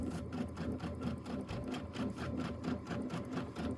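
Sewing machine stitching in the ditch on a Christmas quilt, a close, steady rapid needle rhythm running continuously throughout with no talk.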